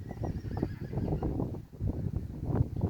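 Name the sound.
horse neighing in the background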